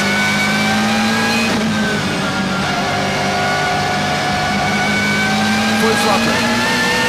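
BMW M3 GTR race car engine held at full throttle on the Nordschleife, a loud, steady high-pitched wail with rising harmonic sweeps through upshifts on a sequential gearbox, heard from onboard with someone talking over it.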